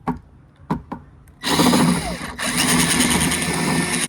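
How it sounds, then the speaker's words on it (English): A few sharp knocks come first, then a power drill whines loudly and steadily, pausing briefly before biting into a rainwater barrel again to fit a spigot. No voices. "So I'm gonna drill in my top spigot"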